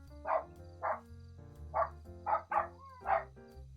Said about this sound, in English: He's barking like a madman.